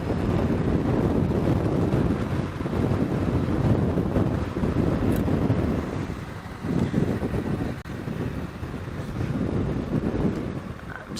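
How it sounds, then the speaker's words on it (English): Strong wind buffeting across an open airstrip during a safari drive, a loud continuous roar of gusts battering the microphone, rising and easing without pause, with no talk. "it's very windy on this airstrip"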